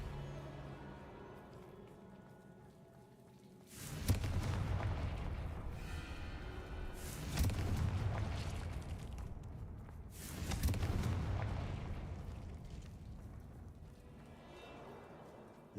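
Confringo fire spells in the Hogwarts Legacy video game blast in three heavy booming explosions, each a sudden loud burst that rumbles and decays over a couple of seconds.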